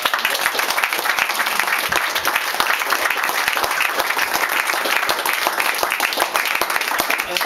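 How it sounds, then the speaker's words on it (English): Steady round of applause from an audience at a victory speech in Braintree, dense broadband clapping sustained evenly throughout with no talk over it. "So I'd like to give him a round of applause for being here"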